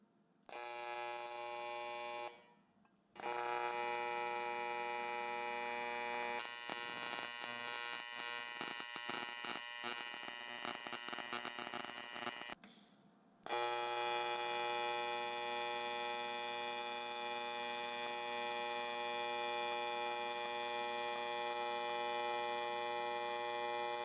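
HTP Independence 210 TIG welder running beads on 1/16 inch metal, a steady electric buzz with harmonic hum that cuts out briefly twice, then resumes and holds for long stretches with no talk.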